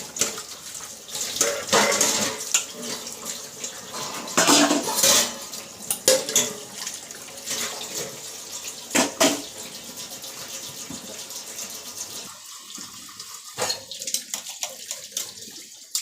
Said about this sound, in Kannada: ಪಾತ್ರೆ ತೊಳೆದಾಯ್ತು